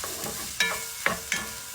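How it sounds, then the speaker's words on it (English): Ginger and garlic sautéed in a pan give a steady close sizzle, punctuated by three or four sharp spatula taps and scrapes, with no voices. "I'm just gonna saute this. In goes the ginger and a little bit of the garlic."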